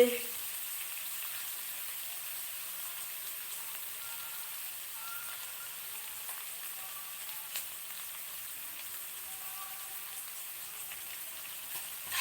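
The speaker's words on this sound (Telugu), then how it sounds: "దాన్ని కర్రీ బాగా చూడండి ఇలా బ్రౌన్ కలర్ వచ్చే వరకు వేయించాలి తొందరగానే వేగిపోతాయి" Small chopped ivy gourd pieces fry in a pan toward browning for a masala curry, giving a faint, even hiss that runs steadily throughout with hardly any other sound.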